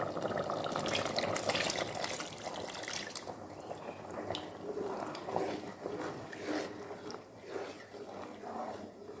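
Thick coconut milk is poured into a Kerala-style mutton stew, giving a soft continuous liquid pouring and trickling sound with faint splashes, close and moderately loud throughout.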